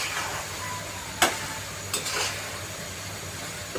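Chickpea bhuna is stirred in a pan after lemon juice is added: a low, quiet simmering sizzle with two distinct spoon scrapes or knocks against the pan.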